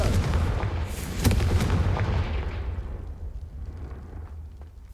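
Confringo blasting spells go off in the Hogwarts Legacy video game: a few loud booming blasts with a crackling burst, then a deep rumble that slowly fades.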